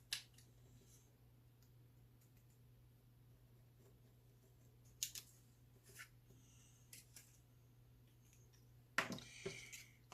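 Paper is trimmed for a notebook cover pocket, a quiet room with a few sparse, crisp cutting snips spaced apart, faint and close with no voices.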